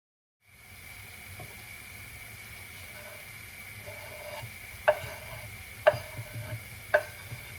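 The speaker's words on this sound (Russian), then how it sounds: "Пока у нас лук обжаривается" Onions sizzle in a pan with a steady frying hiss, while a few sharp utensil clinks against the pan ring out near the end.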